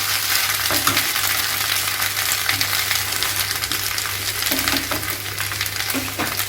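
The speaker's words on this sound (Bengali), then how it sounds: "ভালো করে মিশিয়ে নিলাম সবজিগুলোর সাথে মশলাটা।" Vegetables mixed with spices in a frying pan for shukto sizzle loudly and continuously, while a utensil stirs through them with occasional soft scraping strokes, close up and without speech.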